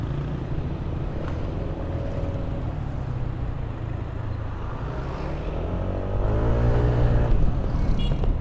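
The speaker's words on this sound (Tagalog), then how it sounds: "Traffic pa man din mga karuba." Road traffic with cars and motorcycles crawling along a congested street, a steady moderate engine drone that swells louder toward the end as a vehicle pulls in close.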